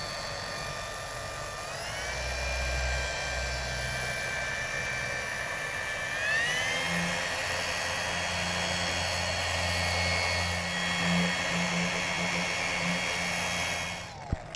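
A small 1-inch pad car paint polishing machine whirs up to speed and runs steadily, a close, high whine that rises in pitch in two steps and then holds, with a rough buffing hiss underneath.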